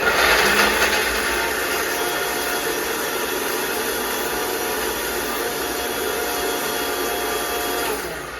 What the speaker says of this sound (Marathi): त्यासाठी आपल्याला मिक्सर लागेल